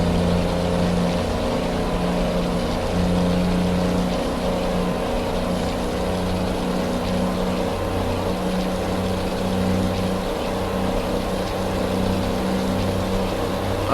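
Heavy truck engine hauling a wood chipper in Euro Truck Simulator 2, a steady low droning hum with a constant tone running throughout, with no talk over it.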